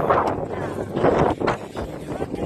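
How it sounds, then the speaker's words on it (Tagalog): Wind buffets the microphone in rough, uneven gusts outdoors in Pyeongchang, Gangwon-do, South Korea, covering most other sound. "Mahangin sa labas. Ang hangin-hangin. Grabe. Very windy"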